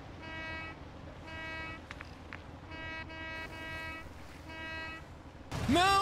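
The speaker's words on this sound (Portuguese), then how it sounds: "Olha a buzina do barco." Boat horn in the video game DMZ, several sustained tonal blasts repeated in a steady pattern, moderately distant, followed by a rising tonal sound at the end.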